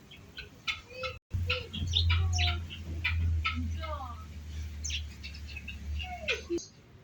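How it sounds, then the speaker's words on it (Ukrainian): Pheasants in a park, giving several short chirping and clucking calls against a low background hum, while people talk nearby. "Це фазани, друзі"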